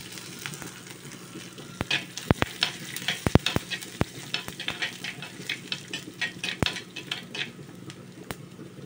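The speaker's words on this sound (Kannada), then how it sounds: "ಚೆನ್ನಾಗಿ ಫ್ರೈ ಮಾಡಿಕೊಳ್ಳೋಣ." Urad dal, fenugreek seeds and cumin fry in a pan for a Mangalore-style mango curry, a steady oily sizzle broken by frequent sharp clicks and taps of a spoon stirring against the metal.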